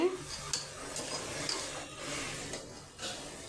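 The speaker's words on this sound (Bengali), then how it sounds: "কলমি শাকটা হয়ে গেছে আর একটু ভাজা ভাজা হলে তারপর নামিয়ে নেব" Water spinach (kalmi shak) fries in a pan with a soft, low sizzle, while a utensil scrapes and stirs in a few irregular strokes nearby.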